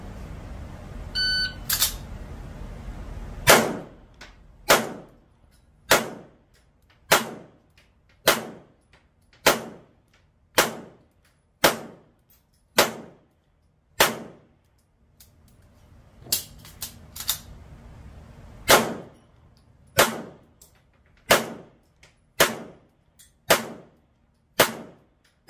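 Pistol shots ring out one by one in a shooting match with a bonus-and-penalty target course, about fifteen sharp loud cracks at a steady brisk pace, preceded by a short electronic start beep and followed by a quieter pause mid-string.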